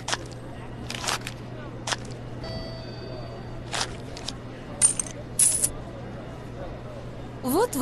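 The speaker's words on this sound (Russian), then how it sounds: "Кладите монеты и купюры в лоток" Coins drop into the payment tray at an airport ticket counter in the Hippo Kids cartoon game, several short bright clinks spread out over a low steady hum.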